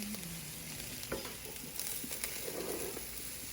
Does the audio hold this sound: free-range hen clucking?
no